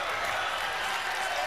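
A basketball arena crowd and bench roar and applaud after a made shot at a conference tournament quarterfinal, a dense, steady wall of cheering throughout.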